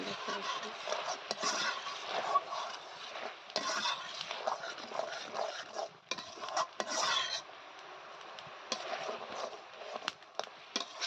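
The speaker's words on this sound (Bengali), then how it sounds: "এই যে হলো আমি চিকেনের জন্য মশলাটা কষাচ্ছি" Spice paste for chicken being stirred and fried in a pan, with a steady rasping scrape of the spoon against the metal and soft sizzling under it, broken by occasional clinks of utensils.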